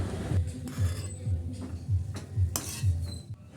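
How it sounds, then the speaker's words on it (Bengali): A spoon skims foam off moong dal boiling in a pan, with soft metallic scrapes and taps against the pan in a steady repeating rhythm over low bubbling, close by and no talk. "এই ফেনাগুলো আমি একটা চামচের সাহায্যে ফেলে দিচ্ছি"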